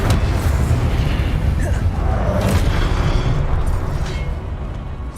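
Casting the Incendio fire spell in Hogwarts Legacy unleashes a dense, continuous roaring burst of flame, heavy in booming low rumble, sustained and loud throughout.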